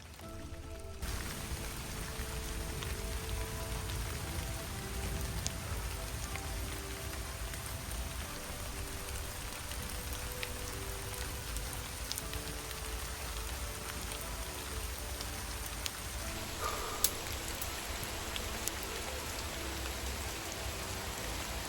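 Rain falls on a forest hillside trail leading to a hidden temple, a soft, even patter that stays faint and continuous, with a brief shift in the background sound near the end.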